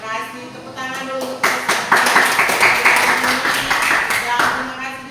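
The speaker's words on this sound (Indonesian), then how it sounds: "Tepuk tangan dulu" Classroom applause as students clap together, starting after a moment of talk and a few scattered claps, then swelling into a loud, steady patter of many hands that breaks off near the end.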